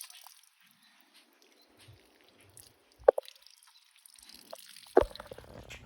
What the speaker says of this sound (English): I got all my valves open. Every valve has a slow drip.